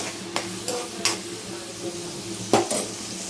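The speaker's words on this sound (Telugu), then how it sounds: "ఉల్లిళ్ళు బాగా బ్రౌన్ కలర్లో రావాలి." Onions fry in a pan on the way to a crab fry, a constant low sizzle near at hand, broken by a few sharp spatula scrapes against the metal and no talking.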